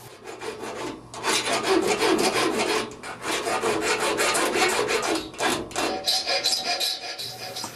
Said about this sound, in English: To finish the spring, we need to clean up any rough edges and make sure that the spring has a nice even flex to it